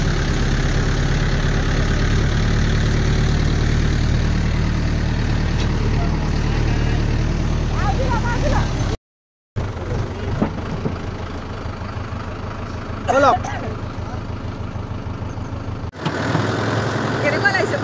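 A tractor engine idles steadily near a paddy field, a loud continuous low rumble that breaks off briefly and returns, with some faint background sounds mixed in.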